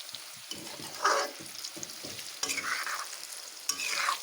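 Mango pieces and sugar stirred in a pan while making sweet-sour mango pickle, giving soft intermittent scraping and bubbling sizzle strokes, close but fairly quiet, with no voices.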